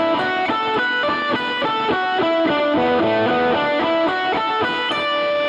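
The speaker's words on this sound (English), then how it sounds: "especially if I have distortion on and I'm playing lead guitar stuff" A distorted electric guitar plays a fast lead line of bright, sustained notes, loud and steady with no voices.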